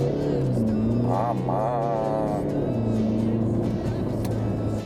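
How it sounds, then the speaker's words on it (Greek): A car floored from a standstill to full throttle over about thirty metres, its engine tone sustained and rising, with a brief exclamation from a person partway through. "Θέλω όπως είμαστε σταματημένοι να βάλεις τον γκάζι στο πάτωμα για 30 μέτρα."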